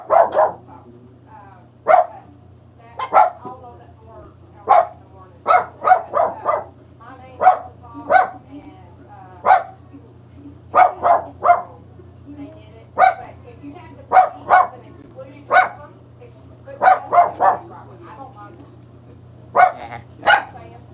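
A dog barks repeatedly in short bursts and clusters, fairly close, over a steady low hum, with some yips mixed in between the barks.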